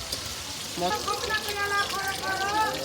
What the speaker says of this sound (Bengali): এটা লোহার কড়াই তাই তো দেখো বন্ধুরা এবার কিন্তু মাছগুলো সব উল্টে উল্টে দেওয়া হচ্ছে